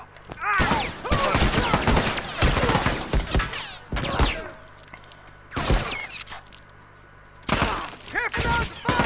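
Bursts of gunfire from The Last of Us multiplayer, rapid automatic volleys with loud cracks, repeated in several clusters, with players talking between and over the shots.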